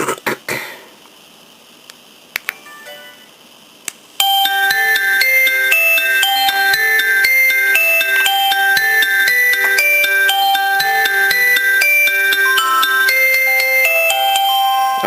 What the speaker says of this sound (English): JR train station ringtones.